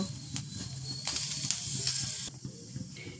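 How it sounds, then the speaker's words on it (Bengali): Nigella seeds crackling in hot oil as a tempering for fried radish, a close, soft sizzle and hiss with brief sharp pops, swelling in the middle and then easing off. "একটু কালো জিরে ফোড়ন দেব"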